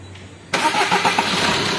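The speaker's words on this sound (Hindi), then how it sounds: "अभी मारेंगे सेल चल सेल मारो" A Maruti Suzuki S-Cross engine, repaired after seizing with damaged pistons, connecting rods and crankshaft, cranks briefly and catches, settling into a loud, close, even idle with no talk over it.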